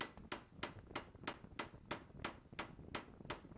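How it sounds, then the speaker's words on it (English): Hammer peening stainless steel bolsters onto a knife handle: eleven sharp, evenly spaced metallic strikes close up, in a steady rhythm with nothing else over them. "These bolsters get hammer peened in place,"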